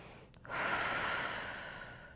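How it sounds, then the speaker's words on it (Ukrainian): A long, breathy exhalation during an abdominal core workout follows a short sniff-like intake, then fades gradually with no voice over it. "Починаєте робити видих знизу живота і до верху."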